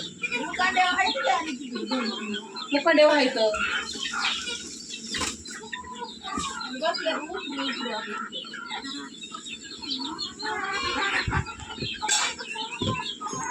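A flock of about nine chickens cluck and murmur around a family home, with occasional wing flaps, while people talk over them almost continuously at close range.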